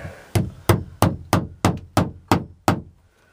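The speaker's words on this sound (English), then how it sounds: "See if Kevin smashes his fingers with the hammer," A hammer taps tacks to secure electrical wiring, eight sharp, evenly spaced blows close by, each with a short ringing decay, then stopping.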